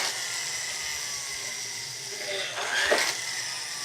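An electric drill whirs steadily under a hissy background, its pitch rising into a sharper whine briefly near the end as it bites in.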